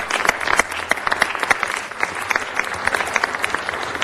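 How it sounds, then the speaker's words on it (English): Audience applause at a city council meeting, a steady four-second burst of many hands clapping with dense sharp claps throughout and no voices. "Let's give them a round of applause for that."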